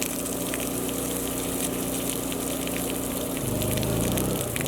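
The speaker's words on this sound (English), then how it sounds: "that just turned our well pump back on" An off-grid well pump runs with water rushing steadily, a dense continuous flow over a low mechanical drone, with the pump tone shifting near the end.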